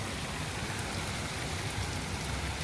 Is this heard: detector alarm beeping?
no